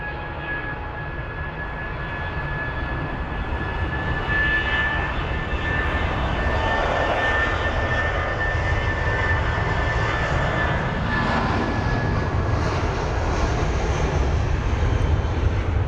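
A British Airways Airbus A320-200 jet takes off from Heathrow bound for Rome, a loud continuous engine roar with a faint high whine that stays full and steady from start to finish, with no speech.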